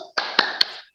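Three sharp hand claps in a classroom chant, evenly spaced and close, ringing against a steady background tone between them.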